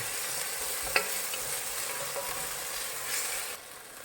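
Ginger garlic paste frying in a pan for prawn biryani gives a steady, fairly quiet sizzle with one brief sharp clink near the start, then eases off toward the end.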